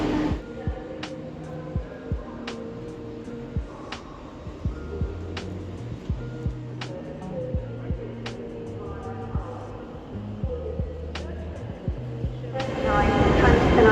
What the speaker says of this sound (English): The Bridlington train.